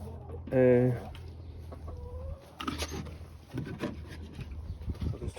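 Chickens in a chicken coop let out a loud, close, drawn-out cluck near the start, followed by softer scratching and rustling noises with a faint second call.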